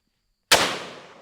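A single sharp .500 Magnum revolver shot cracks out after a moment of silence, loud and sudden, then decays in a long outdoor echo with no talking.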